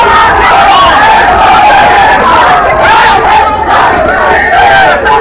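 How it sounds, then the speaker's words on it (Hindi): Crowd of about 800 farmers, women and men, at a protest, shouting together in a dense continuous roar of many raised voices, loud and close without pause. "इस आंदोलन में किसानों की भीड़ महिला एवं पुरुष लगभग 800 लोग थे।"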